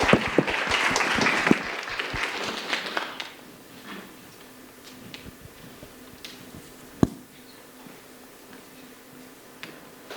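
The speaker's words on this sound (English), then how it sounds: "Please give a warm round of applause to Samarth Dhanapadi." An audience at a high school TEDx event applauds a student speaker, a loud burst of clapping that fades after about three seconds, followed by a few scattered claps and taps.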